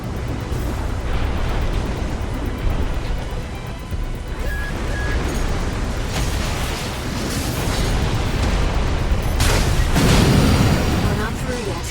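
Armored Core 6 mech combat: a powerful weapon shot and rumbling explosions roar continuously over a heavy low drone, with louder blasts near the end and a voice speaking over part of it.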